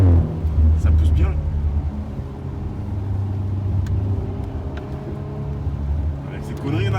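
A 450 hp Audi RS5 pulls hard, its engine droning and rising in steady rumbling acceleration heard from inside the cabin, with someone talking over it throughout.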